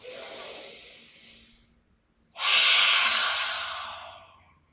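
A deep breathing exercise during a hatha yoga session, with one long audible exhale followed by a second, louder, forceful breath after a short pause, both close and breathy with no talking.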